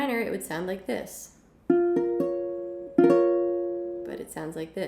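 Piano chords in a minor quality, struck twice with a clear attack and let ring, each decaying slowly, with a speaking voice before and after them.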